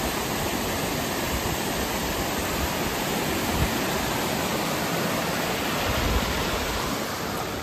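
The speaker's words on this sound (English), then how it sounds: "Here's the creek feeding it, the river." A creek rushing over the top of a waterfall on a forested hiking trail, a steady, dense roar of falling and flowing water close by, unbroken from start to finish with no voices.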